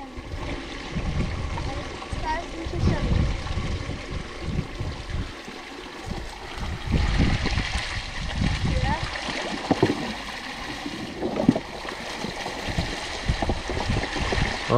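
Water pours through a broken-down homemade dam into a small field stream, a continuous rushing gurgle with uneven surges and splashy bursts, close by and moderately loud.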